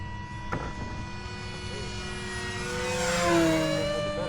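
E-flite Aeroscout RC airplane making a low pass over a runway, its propeller engine whine rising to a loud, close peak midway and then easing off, with people talking nearby.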